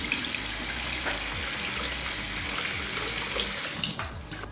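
Water running and splashing steadily onto a Bange waterproof anti-theft crossbody bag, a continuous close hiss like a running tap that cuts off near the end.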